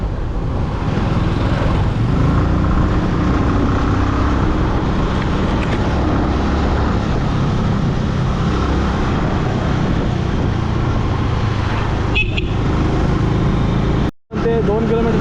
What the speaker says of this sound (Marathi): गाडी तर चालू झालेली आहे